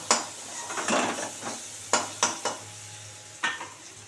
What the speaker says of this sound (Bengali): পেঁয়াজটা মোটামুটি ভাজা হয়ে গেছে এবার একটা টমেটো দিয়ে দিলাম